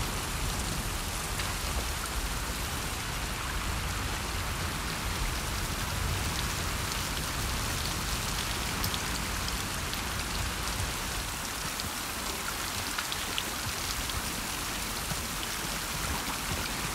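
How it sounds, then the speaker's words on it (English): Dense, constant rainfall in The Last of Us Part II on the return coast, a loud, unbroken wash of drops pattering on surfaces with no voices throughout. "Boy, in this rain."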